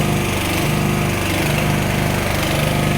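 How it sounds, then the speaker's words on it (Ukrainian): A homemade inverter generator built on a GAB-1-P/30 unit, its small engine running loud and close with a steady, buzzing, mower-like drone throughout. "Зараз його стартану і подивимося, що воно буде. Запустився генератор."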